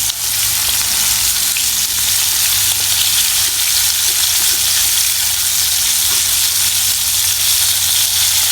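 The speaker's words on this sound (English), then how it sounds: "Let my fish fry." Fish frying in a pan over a wood fire, a loud, continuous close-up sizzle and crackle of hot oil with no one speaking.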